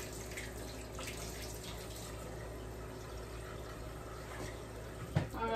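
Faint tap water running steadily into a sink during washing up in a home kitchen, a quiet continuous wash with a brief clatter near the end.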